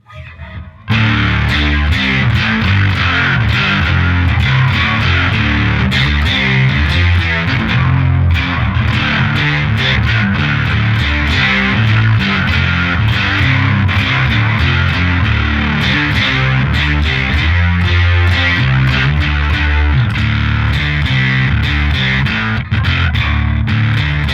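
An electric bass is played through Tech21 pedals with tone boost, octaver, distortion and a V2 bass unit, producing a loud, thick, fuzzy riff that drives steadily for over twenty seconds with no voices.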